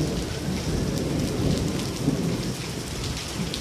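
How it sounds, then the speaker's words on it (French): A supercell thunderstorm with heavy rain roars steadily and loudly close by, dense pouring rain mixed with deep rumbling thunder throughout, no voices. "c'est un orage super cellulaire même plus"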